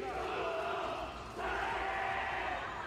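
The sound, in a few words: crowd of fans chanting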